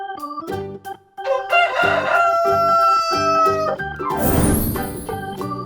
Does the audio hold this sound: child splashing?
no